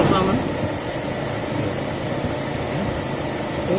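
Carbureted Daihatsu Feroza engine idling during carburetor adjustment, with the air conditioning running: a steady, even low rumble close by, holding a constant level, with someone talking briefly over it.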